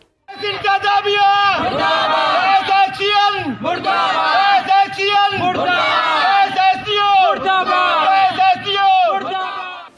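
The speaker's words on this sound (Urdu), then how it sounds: "مظاہرین نے گیس انتظامیہ کے خلاف خوب نعرے لگائے" A crowd of protesters outside a gas company office chants slogans against the gas administration, loud rhythmic shouting in repeated bursts with a leader's calls answered by many voices.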